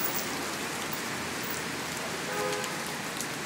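Heavy rain pours down on a New York City street, a dense, constant hiss of drops pattering on hard surfaces, loud and close with no voices over it.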